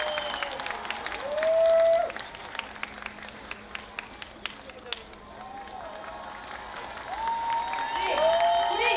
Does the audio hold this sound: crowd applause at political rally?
yes